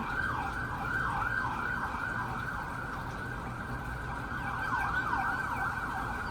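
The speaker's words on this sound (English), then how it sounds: "I lied, it was an ambulance" An ambulance siren wails continuously in a rapid rising-falling pattern, staying fairly loud throughout as it goes by with traffic rumble beneath.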